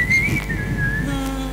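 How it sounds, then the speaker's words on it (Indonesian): A lone whistled melody line in a song recording holds a sustained, gently wavering high tone for just over a second over a low instrumental backing. "Makanya jadinya melodinya pakai siul"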